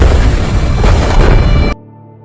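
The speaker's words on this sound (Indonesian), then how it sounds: "Remnya blong dan akhirnya mobil tersebut meledak." In a film, a car whose brakes have failed explodes with a loud, dense roaring blast that rumbles steadily for over a second and a half, then cuts off abruptly into quiet.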